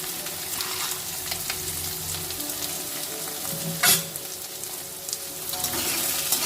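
Peanuts and salt are stir-fried in hot oil for sabudana khichdi, a loud continuous sizzle close by, with one sharp burst of crackling partway through.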